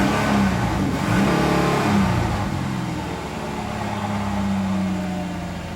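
The engine of a rough-running 1994 Ford Explorer Limited idles close by with a low, uneven hum that wavers and stumbles, a faint tick in the background.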